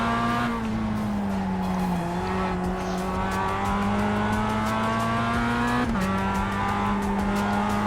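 A race car in the iRacing simulator braking hard into a corner, a steady loud engine drone with tire squeal, the pitch dipping as it slows and shifting down, no voices.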